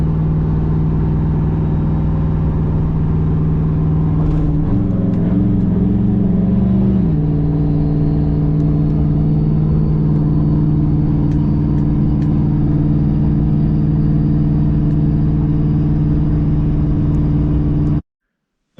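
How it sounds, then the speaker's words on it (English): A turbocharged GMC pickup truck towing a trailer through light traffic, a steady, loud, close cabin drone of the engine with a brief shift in pitch partway through, ending abruptly, no talking. "So far it's going really good. Towing it nice. Turbo GMC is doing what it should."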